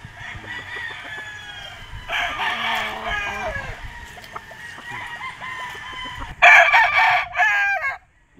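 A white Kelso gamefowl rooster crows loudly and close at a Philippine game farm, with repeated strained crows and clucking from other roosters nearby throughout.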